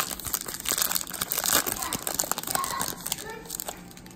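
Foil wrapper of a pack of chrome baseball cards crinkled and torn open close up, a dense burst of crackling under brief talk.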